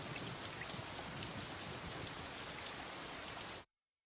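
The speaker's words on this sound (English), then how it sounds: "That's a lot of rain." Heavy rain pours down in an anime scene, a steady, dense hiss of drops that holds at an even level and then cuts off abruptly.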